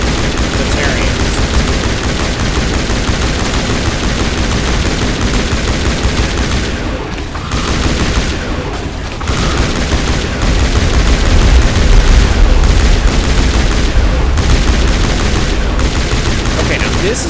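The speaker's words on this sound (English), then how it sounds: "the only guys who can do that trick and actually stop this rifle from continuing to fire" Continuous rifle fire from a weapon in Mass Effect Legendary Edition, a dense, loud stream of rapid shots that runs the whole time with a few brief dips and then swells again, with no talk over it.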